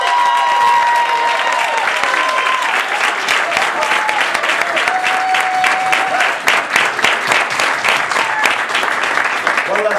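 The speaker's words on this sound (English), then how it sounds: "Let's give a round of applause for our Toastmaster, Winston." Loud, steady applause from the audience at a Toastmasters speech contest honours the Toastmaster, with dense clapping and some crowd voices and cheering mixed in throughout.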